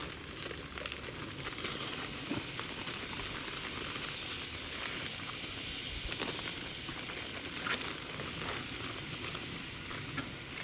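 Steady hissing and bubbling from a large pot of boiling water on an outdoor Monument grill as ears of corn go in, with faint crinkles and clatter over a constant wash of noise.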